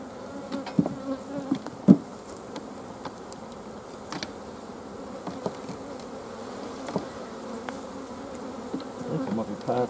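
Honey bees buzz steadily around an opened hive during winter brood management, a continuous close insect drone with a few sharper knocks and movements near the start.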